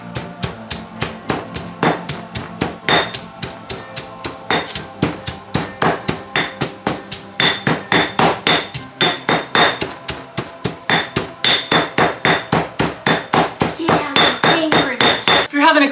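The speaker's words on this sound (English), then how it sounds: "there's nothing better than smashing something in your mortar and pestle" Pounding in a mortar and pestle while making cauliflower soup, a long run of loud, sharp, rhythmic strikes that speed up toward the end, each hit ringing briefly.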